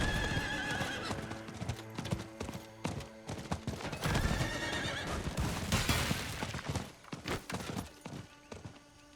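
In the Diablo IV video game, a horse gallops with rapid, continuous clip-clop hoofbeats and gives loud whinnies over a rumbling game soundtrack.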